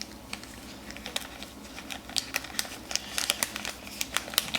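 Crinkly plastic packaging of a Croatian MRE ration is cut open with scissors, giving a run of sharp snips and rustling crackles that grow busier toward the end, close and fairly quiet with no speech.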